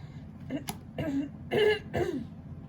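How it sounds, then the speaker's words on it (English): Someone clears their throat in four short, rough bursts, close and fairly loud, with quiet pauses between. "If you're tired of me clearing my throat, so am I."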